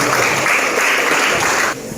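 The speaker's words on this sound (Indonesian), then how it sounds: "Kita kasih tepuk tangan untuk kelompoknya" Students in a classroom clap for a group's presentation, a loud, dense burst of applause that stops abruptly near the end.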